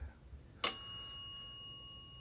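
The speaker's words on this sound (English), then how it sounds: "that bell's busting" A single sharp bell strike, bright and metallic like a bicycle bell, rings out once and leaves a clear tone slowly fading over the following seconds in an otherwise quiet house.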